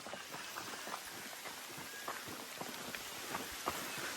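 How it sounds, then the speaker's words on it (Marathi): Rain falls during a trek to Mahuli fort, a faint, steady patter of drops on surfaces with scattered soft taps, distant and low in level. "पाऊस चालू झालेला आहे."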